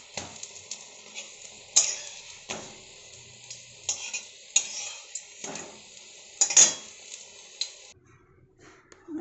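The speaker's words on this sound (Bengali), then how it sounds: "আর এখানে তেল গরম হয়ে গেছে, ছেড়ে দিচ্ছি। এই যে একটা করে ভাজছি।" Pumpkin flower fritters spiced with nigella seeds, chili powder, turmeric and a pinch of baking soda fry in hot oil at home, giving a steady bubbling sizzle broken by clinks and scrapes of a utensil against the pan, with no talk.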